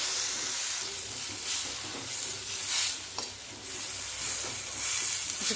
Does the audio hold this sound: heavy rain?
no